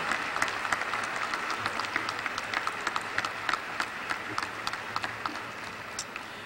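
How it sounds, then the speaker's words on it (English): An audience at a banquet awards presentation claps continuously, sharp individual claps standing out from a steady wash of applause at moderate volume. "Give all of our young people who received an award a proud round of applause."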